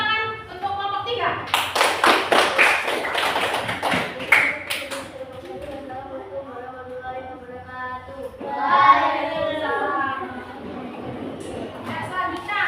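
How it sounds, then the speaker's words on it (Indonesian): Classroom of schoolchildren clapping for a group of pupils, a burst of quick, dense applause lasting a few seconds, followed by a voice speaking. "beri tepuk tangan untuk kelompok 3"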